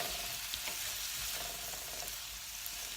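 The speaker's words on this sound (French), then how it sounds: "Je vais venir à ce moment-là rajouter mes crevettes cuites, tout en sachant qu'il ne faut pas arrêter de remuer." Broccoli and cooked shrimp stir-fried in a pan give a steady, fairly quiet sizzle with constant soft stirring scrapes, uninterrupted by any voice.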